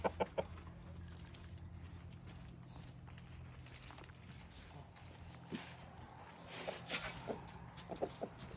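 Free-ranging chickens cluck softly in the daytime, fairly distant and quiet, with a few scattered footsteps and rustles.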